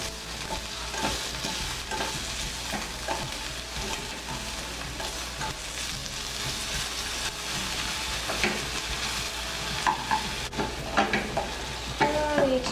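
Butter and flour cook with onions in a pan for a vegan roux, giving a steady close sizzle under continuous stirring, with occasional sharp clinks of a utensil against the pan.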